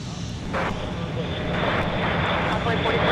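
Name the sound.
Global business jet taking off at MSP airport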